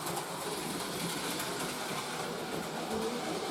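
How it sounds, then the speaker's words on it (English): Train rolling past during a December snowstorm, a steady loud rushing rumble of wheels and cars passing close by with no break. "Hey Charlotte, what do you think of the train?"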